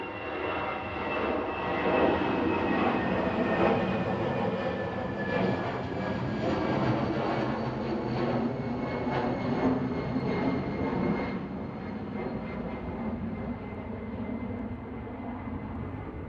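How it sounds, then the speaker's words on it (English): British Airways Airbus A320neo departing Manchester Airport, a strong steady engine roar with a descending whine, gradually easing as the jet climbs away. "That's an A320 Neo departing now."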